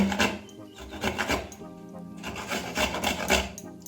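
Indian gooseberries (amla) being grated by hand, a steady rasping scrape repeated in uneven strokes, close and moderately loud with no talking.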